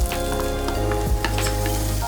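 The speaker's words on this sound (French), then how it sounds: "Hop, fait chauffer et je mets tous les petits légumes que Baptiste a coupés." Chopped small vegetables hit hot oil in a saucepan, giving a close, steady sizzle and crackle with a few brief stirring scrapes, no voices.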